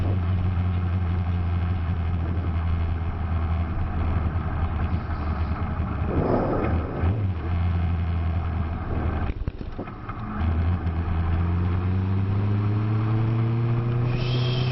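A vehicle engine drones steadily as the rider travels along a road, holding a constant hum, dipping briefly, then climbing in pitch toward the end.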